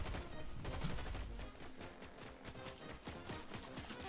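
Gunfire in the Fortnite video game, rapid bursts of shots in dense, fairly faint volleys that keep going through the whole stretch, with no voices over them.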